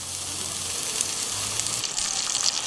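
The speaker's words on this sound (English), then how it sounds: "we're now going to add in our chorizo and give them a bit of a fry for about 5 minutes" Chorizo fries in a hot Dutch oven with a steady, close hiss of sizzling oil that runs unbroken and fairly loud throughout, with no voices.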